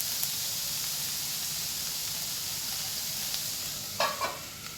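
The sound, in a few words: ivy gourd (kundri) frying in a pan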